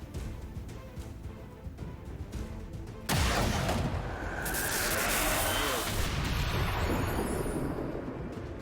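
XCOM 2 gunfire: a game-audio barrage with a sudden loud burst of shots and blasts breaking over a busy, noisy background, then sustained crackling rumble; a voice talks faintly underneath.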